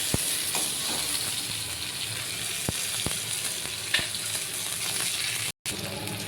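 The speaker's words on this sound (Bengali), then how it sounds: "মাছের তেলের মধ্যে আমি বেগুনটা একটু তেল দিয়ে ভেজে নেব" Eggplant rubbed with turmeric and salt fries in oil left from cooking fish, giving a loud, steady, close sizzle with a few sharp utensil clicks and a brief cut near the end.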